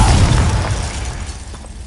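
A Confringo fire spell explodes in the Hogwarts Legacy video game: one loud, close, booming burst with a deep low rumble that slowly fades over about two seconds.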